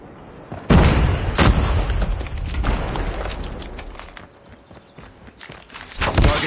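Grenade explosion in Call of Duty Mobile multiplayer: a loud boom with a rumbling tail, followed by more bursts and crashes in the game's battle noise, with a second heavy impact near the end.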